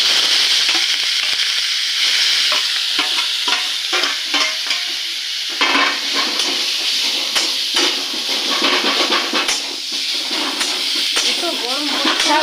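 Red amaranth greens fry in a pan with dried chili, bay leaf and radhuni seasoning, crackling and hissing while being stirred, with scraping strokes and a voice talking over the cooking.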